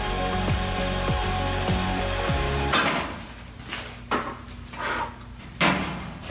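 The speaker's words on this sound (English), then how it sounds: "So I'm gonna drill with this quarter bit or whatever size it was" A quarter-inch bit drills a pilot hole on a Kubota Ford diesel tractor: a steady high drill whine with a few quick speed dips for about three seconds, then stops, followed by scattered clicks and handling knocks.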